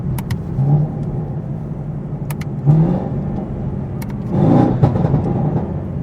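A tuned Chevrolet Camaro ZL1 heard from inside the car, its engine note swelling in short revving bursts as it downshifts, loud and continuous, with no talking.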